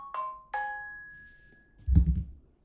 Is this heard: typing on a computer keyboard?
no